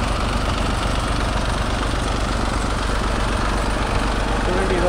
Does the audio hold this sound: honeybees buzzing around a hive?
no